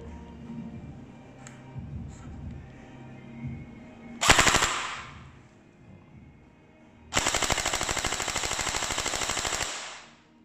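Si Jun M4 gel blaster toy gun firing in automatic mode: a short burst, then a long rapid mechanical rattle of shots lasting about three seconds, loud and close over faint background.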